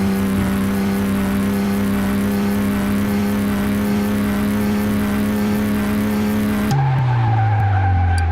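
A Porsche 911 Turbo S 964 in Car Mechanic Simulator 2018 roars at top speed with a loud, steady engine drone and tire noise, then the pitch drops sharply near the end.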